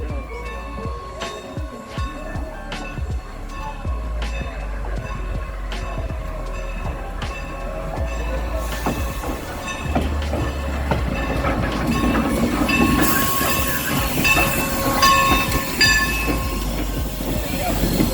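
Steam locomotive 475 hauls an excursion train past with rumbling, clattering wheels and rolling cars, growing louder and rougher toward the end, while voices are heard talking nearby.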